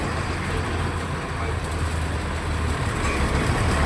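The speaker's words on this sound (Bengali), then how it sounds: "মানে এই ইঞ্জিনটার সাউন্ডের মধ্যে একটা দম্ভ আছে" A WBTC government bus travelling from Bakkhali to Kolkata, its diesel engine droning loud and steady with a deep low rumble and road noise, heard from inside the cabin.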